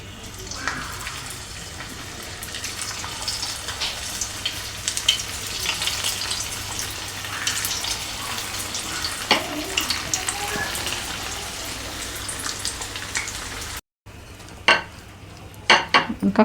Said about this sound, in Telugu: ఇంకా కొన్ని ఉన్నాయి కదా, అవి కూడా వేసేసుకొని అవి ఇవి కలిపి ఫ్రై చేస్తాను.